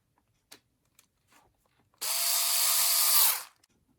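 A power driver whirs for about a second and a half, tightening a screw on a Tamiya Wild Willy 2 WR-02 RC chassis, loud and close after a few faint handling clicks.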